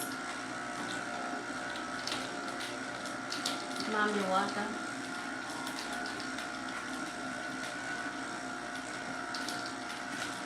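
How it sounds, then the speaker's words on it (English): A juicer grinding pineapple with a steady mechanical whir and hum throughout, with a brief rattling surge midway, heard close at low level while someone speaks briefly. "Let's see how long it takes for the pineapple to juice."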